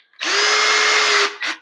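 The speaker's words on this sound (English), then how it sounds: "I'm just going to take a little tiny drill bit and just drill through this" Small drill bit boring through a wooden house floor during a renovation: a steady high motor whine running about a second, then a brief second burst, close and loud with no talk.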